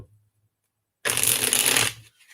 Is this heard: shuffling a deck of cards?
yes